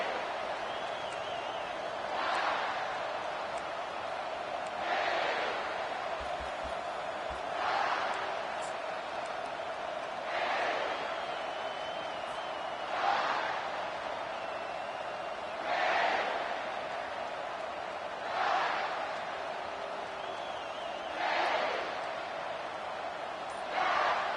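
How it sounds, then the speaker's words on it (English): Stadium crowd at a football game roars in a steady wash, swelling in repeated surges every few seconds around a continuous droning tone, with no clear speech. "This crowd going to try to make life miserable for these guys."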